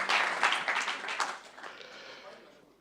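Audience applause for a man named Luc at a welcome speech, a moderate burst of clapping that gradually fades, with faint voices mixed in.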